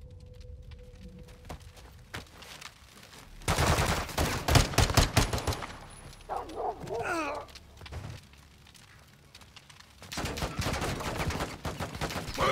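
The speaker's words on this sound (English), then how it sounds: "They're, they're shooting." Bursts of rapid gunfire from a Call of Duty: Modern Warfare II firefight with cartel gunmen, loud clusters of shots at intervals with quieter gaps between, plus brief voice sounds.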